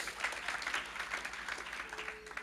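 A church congregation applauds steadily throughout, a dense wash of clapping with some faint voices mixed in underneath.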